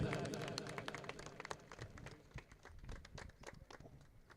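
A crowd at a village cricket exhibition match claps for an honoured guest, a scattered patter of hand claps that thins out over a few seconds, faint and somewhat distant.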